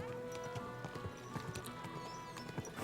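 Horse hooves clip-clopping on a road while riding in Kingdom Come Deliverance 2, a steady rhythmic trot of hoofbeats, moderately close, over soft ambient background.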